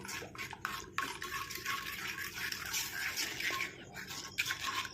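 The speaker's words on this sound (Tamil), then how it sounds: "நம்ம இந்த மாதிரி ஒரு ஸ்பூன் வச்சு இந்த மாதிரி மிக்ஸ் பண்ணி விட்டுறலாம் நல்லா" A spoon scrapes and clinks rhythmically against an iron pan, stirring a heating homemade hair dye mixture in quick, repeated strokes.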